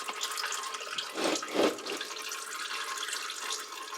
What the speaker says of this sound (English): the oil is starting to trickle down